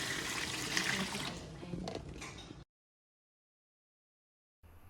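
Water running and splashing loudly during the pre-cleaning cycle of a Tokit Omni Cook kitchen machine, a steady rush for a couple of seconds that stops abruptly into silence before a faint sound returns at the end.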